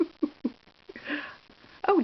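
A person sneezes once, a short sharp burst up close, with breathy sniffing and faint voices around it.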